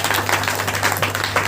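A congregation claps their hands in praise to God at an Independence Day church service, a brisk run of many hands applauding together over a steady low hum, with no talking.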